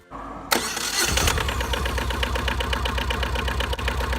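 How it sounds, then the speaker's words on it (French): A Kubota diesel engine in a 2018 Aixam coupé cranks and starts after a brief quiet moment, then runs with a steady, loud, rhythmic knocking idle close by. "c'est un moteur diesel Kubota qui consomme seulement"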